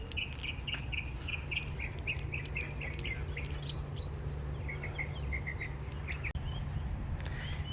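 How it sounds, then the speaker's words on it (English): Birds chirp and call repeatedly in a desert with prickly pear cactus and brittlebush, bright short tweets in steady bursts over a constant low outdoor hum, moderately near and continuous. "Listen to the birds."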